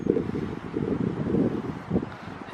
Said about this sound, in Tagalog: Very mahangin lamang.